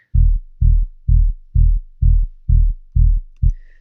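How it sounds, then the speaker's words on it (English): Deep sub bass synth notes in a Melbourne bounce track pulse eight times in an even rhythm, low and booming with short gaps between, alone with no other instruments. "the third sound is just the sub part of the bass"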